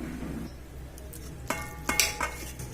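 Mithila-style moong dal chutney is scraped and spooned from a pan into a wooden bowl, giving off close metallic clinks and scrapes. A few sharper knocks land near the end, over a low steady background rumble.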